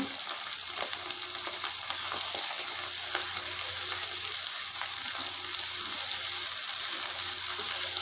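Steady, dense frying sizzle from onion-tomato gravy for mutton kofta curry as a glass of water goes in, a continuous hiss and bubbling with faint stirring, close and even, no talk.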